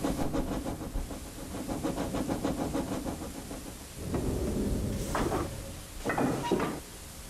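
A big blue cartoon steam engine backs up onto its train, giving a steady chuffing rumble, then a few louder clanking bursts as it couples on. The sound is mid-distance, with no talking.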